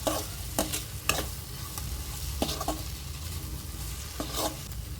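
Kothu chapati mixture of chopped chapati pieces stirred and fried in a pan, with steady close sizzling broken by repeated scraping strokes of a spatula against the pan, and no voices.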